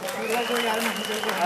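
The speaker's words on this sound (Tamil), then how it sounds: "நீங்கள் பேசாமல் இருக்க கைதட்டுங்க." Audience clapping at a Sri Krishna Jayanthi stage program in Dubai, a steady dense patter filling the short stretch while a voice carries on over the top.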